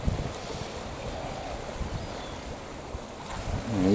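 Waves wash and splash along a shore with gusty wind buffeting the microphone, a continuous rough rushing with a louder surge at the end.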